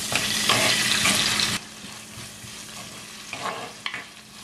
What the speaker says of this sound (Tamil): இப்ப இதற்கா மிக்ஸ் பண்ணி போட்டு ஒரு 3 நிமிஷம் வதங்க விடுவோம்.